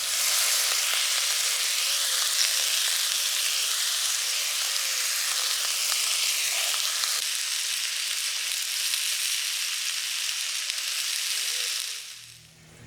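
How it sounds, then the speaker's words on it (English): Breakfast sizzling on a Caddock barbecue at a Yorkshire Dales campsite, a loud, even, continuous frying hiss close by that runs steadily and then cuts off near the end. "Okay, that's the barbecue all set up. Let's start cooking the breakfast."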